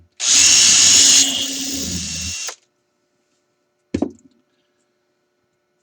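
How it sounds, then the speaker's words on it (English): A power drill bores a rivet hole in steel in one close, loud burst of about two seconds whose whine drops in pitch partway through. After a pause comes a single short knock. "Drill and insert first."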